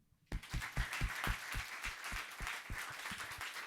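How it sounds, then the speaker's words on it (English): Small audience at the close of a physics discussion session clapping together, sharp distinct claps at a brisk, slightly uneven rhythm following a quiet start, close and moderately loud, no talk over it. "let's clap for everybody"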